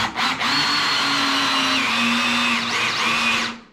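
A power drill whirs steadily up close, its motor pitch dipping and rising in short bursts as it drives a fixing in.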